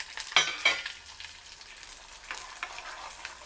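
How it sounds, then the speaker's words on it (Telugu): Lentils fry in hot oil for a tempering while being stirred, with a couple of sharp spoon scrapes at the start and then a close, steady crackling sizzle. "ఇప్పుడు ఈ పప్పులు కూడా కొంచెం వేగాయి, చిట్టుపట్లాడుతున్నాయి"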